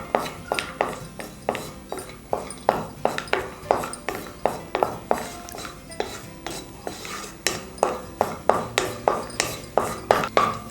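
Cashew nuts frying in ghee in a pan while being stirred, with steady rhythmic metal scraping and clinking of a spoon against the pan, close and fairly loud, no talking.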